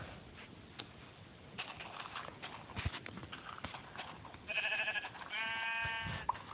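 Sheep in Minecraft Pocket Edition give two drawn-out, buzzy bleats near the end, over a busy background of soft game clatter and shuffling steps.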